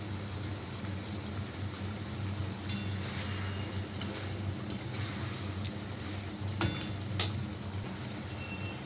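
Pan of food sizzling steadily as garam masala goes in, with a soft continuous fry, light scraping stirs, and a few sharp metallic clinks of a spoon against the pan, close and moderately quiet.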